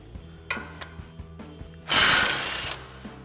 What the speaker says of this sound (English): we'll grab our 21 mil socket on our impact, pop this nut free